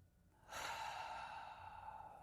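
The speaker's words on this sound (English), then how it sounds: "Take 3 deep belly breaths." One deep belly breath, a single long, close exhalation that starts suddenly and slowly fades over about two seconds, with no talking.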